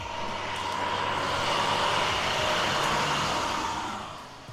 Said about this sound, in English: You wanna wave to the school bus?